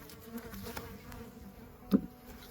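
Bees humming inside a winter beehive kept on fondant, a low steady buzz close up with one brief louder knock near the end; no talk.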